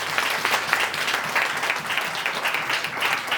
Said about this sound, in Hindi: ताली बजाएंगे सबके लिए।